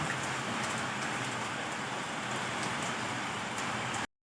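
Steady downpour of heavy rain, a thick continuous roar nearby, cutting off abruptly at the end.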